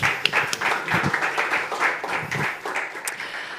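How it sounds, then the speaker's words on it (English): Clapping from an audience at a startup pitch event after a presenter's pitch, a moderate, somewhat uneven round of applause that fades slightly toward the end. "Big round of applause for Andre"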